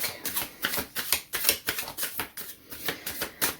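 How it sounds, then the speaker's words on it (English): Rapid, rhythmic riffling of tarot cards being shuffled up close, a dense run of crisp flicks with no talking. "Just gonna shuffle this back into the deck"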